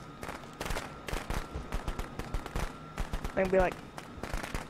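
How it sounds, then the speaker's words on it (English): Firecrackers in the Friday the 13th video game crackle in a rapid, irregular string of sharp pops, with a brief voice talking over them. "Someone's using firecrackers at me."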